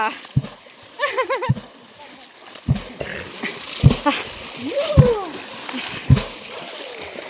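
Water splashing in short, irregular bursts as a person is thrown into a well, with excited voices calling and talking between the splashes.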